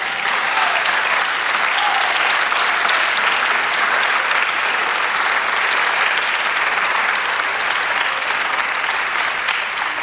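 A church congregation claps for the Lord during a Spanish-language sermon, a loud, even roar of many hands sustained for the full ten seconds without any voice rising above it.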